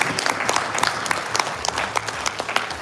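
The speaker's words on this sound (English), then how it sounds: "Please, another round of applause for DRB, please." A crowd at a Nigerian community gathering in London gives a round of applause, many hands clapping fairly loudly with sharp individual claps standing out from the steady sound.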